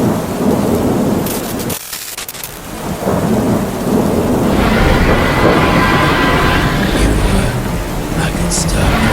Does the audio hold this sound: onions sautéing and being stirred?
no